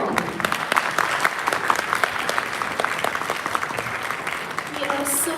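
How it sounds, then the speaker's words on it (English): A crowd of audience members applauds steadily for a Malaysian primary school wind band after its performance at an international band and orchestra competition, with a continuous wash of clapping throughout. "Let's give a round of applause to"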